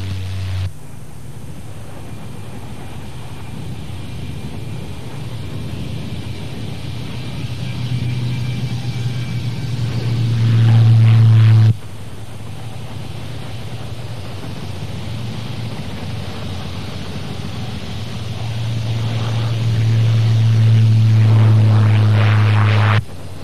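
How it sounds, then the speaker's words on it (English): A Shorts Skyvan propeller plane flies past at the 1984 Farnborough air show, a loud droning engine and airscrew rumble that swells twice as it passes, heard alone without talk. "Short sky vans are one of the most successful propeller-driven planes around today."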